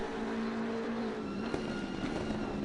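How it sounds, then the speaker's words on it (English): A BMW M6 race car at Zolder circuit drones steadily with a throaty engine note, and a brief pop cuts through the continuous roar partway through. "Listening to the grunt of the very popular BMW brand M6 and a pop."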